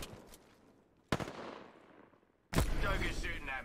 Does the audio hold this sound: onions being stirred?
no